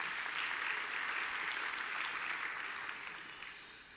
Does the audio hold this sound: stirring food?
no